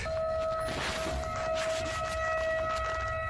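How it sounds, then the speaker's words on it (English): A sustained high-pitched siren tone holds steady throughout, drawn-out and insistent like a long horn blast, over a constant background hum. "the sirens sound quite high-pitched, almost like a car horn beeping long and restlessly"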